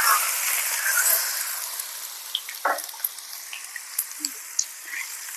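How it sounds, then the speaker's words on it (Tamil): Hot oil hitting a mixture of chili powder, sesame seeds and garlic crackles with a bright sizzle that fades to scattered pops and spits, close and fairly quiet. "இப்போ எண்ணெயை சூடு பண்ணி இதில் சேர்த்துக்கலாம். நல்லா சூடாக இருக்கிற எண்ணெயை இதில் சேர்த்துக்கலாம்."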